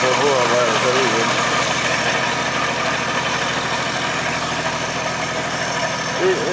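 A Pontiac 3.65-litre six-cylinder side-valve L-head engine of 85 hp idles steadily and close by, its low, even rumble running throughout with people talking over it.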